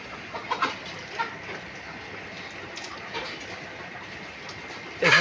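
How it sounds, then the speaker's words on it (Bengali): Chickens cluck in a coop kept cool with water sprinklers, a few soft clucks scattered over a steady hiss of spraying water, with a louder burst at the very end. "আমার এখানে দেখেন মুরগি আছে"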